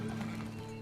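A horse whinnies with hooves clopping in Red Dead Redemption Online, a brief steady tonal neigh over soft hoof beats, moderately loud.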